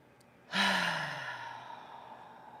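A deep cleansing breath taken during a yoga flow, heard alone: a sudden loud inhale-exhale onset that slowly trails off into a long, soft, breathy sigh.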